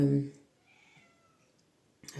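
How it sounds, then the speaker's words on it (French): A domestic cat gives a sharp, harrowing cry up front, then quiet room tone follows before another sound begins at the end. "cri déchirant du chat"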